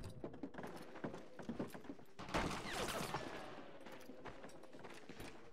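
A gunshot strikes the player at a farmhouse in Medal of Honor: European Assault, one sharp, loud crack rising out of scattered clattering shots and rattling background fire.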